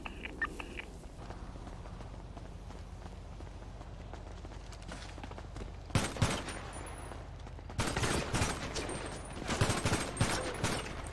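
Gunfire during a GTA gang spray fight, quiet running and movement at first, then loud bursts of automatic fire around the middle and a dense volley near the end.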